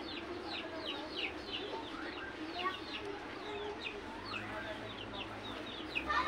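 Chickens cluck and chirp continuously nearby, with overlapping calls and some faint background noise.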